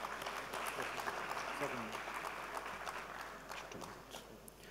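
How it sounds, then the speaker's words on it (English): Applause from an audience at an automotive congress plenary session for the session chairperson, steady scattered clapping of middling loudness, with some voices and movement mixed in, tapering slightly toward the end. "Let's give a big round of applause."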